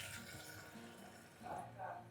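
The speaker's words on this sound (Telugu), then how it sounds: "ఇప్పుడు గ్రేవీ కోసం కొంచెం వాటర్ యాడ్ చేద్దాం." Water poured into mutton curry for gravy, likely in a pressure cooker, makes a brief splashing trickle in two short bursts near the end over low kitchen background.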